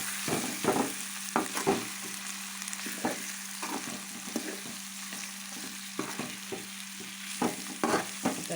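Fish pieces being stirred and fried in masala for a fish curry: a continuous pan sizzle broken by repeated scraping stir strokes at an uneven rhythm, close up with no talk.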